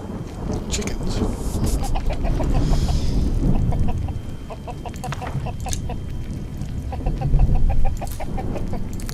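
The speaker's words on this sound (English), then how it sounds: "Chickens." Chickens in a video game cluck in rapid, repeated bursts, several birds close together and fairly loud over a rumbling game ambience, with a short pause midway before the clucking resumes.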